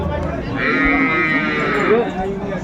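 A cow lets out one long, loud moo close by at a cattle market in Aftabganj, Dinajpur, with market noise beneath it.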